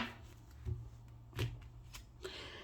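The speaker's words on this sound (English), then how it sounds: "This card came out when I was shuffling for you." Tarot cards are shuffled by hand during a card reading, with soft riffling and a few distinct papery slaps spaced about half a second apart. The sound is close and quiet, with no talk.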